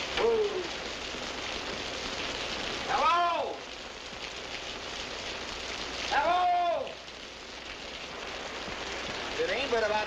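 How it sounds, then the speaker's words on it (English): Heavy rain pours steadily in a broad wash of noise throughout, on a night drive near Cooperstown, with a few rising-and-falling tonal swoops recurring over it. "It's raining worse, Chatty, and I'm scared to go on."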